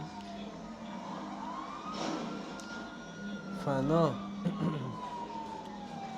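A wailing police car siren from the video game GTA V rises and falls steadily under a voice, with a brief faster warble near the middle.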